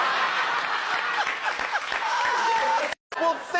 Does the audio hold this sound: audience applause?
yes